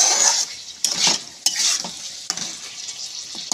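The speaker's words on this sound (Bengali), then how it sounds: "এটা আমি একটু ভালো করে কষে নিই।" Chicken pieces stir-fried and browned in their released oil, with a steady bright sizzle broken by several loud scraping strokes of a spatula against the pan, heard close and without talk.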